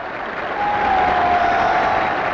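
A crowd welcoming Yuri Gagarin breaks into dense, steady applause that swells after a moment and holds at a loud, even level, with a faint tone running through it.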